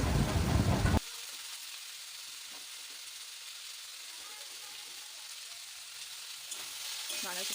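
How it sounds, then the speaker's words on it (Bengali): Cabbage and mixed vegetables fry in a pan for oats khichdi: a loud sizzling burst for the first second, then a steady, softer crackle that continues alone to the end. "বাঁধাকপিটাও দিয়ে দিলাম এটাও আমি ভেজে নেব ভালো করে"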